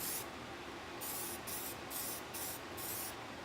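Spray paint hisses out in a light dusting coat over a car body, one steady close-up spray with a few short breaks near the end. No voices.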